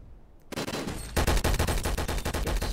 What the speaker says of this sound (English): Warning shot.